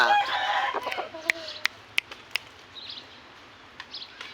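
A few soft clucks and scattered sharp clicks from a nearby fighting rooster, fairly quiet, with a brief murmur at the start.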